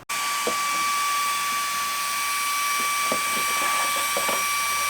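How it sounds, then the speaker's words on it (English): A vacuum cleaner runs steadily up close, sucking up drilling debris from a fresh hole in a campervan floor, with faint knocks and scrapes from the nozzle over the constant whine. "let's vacuum this up"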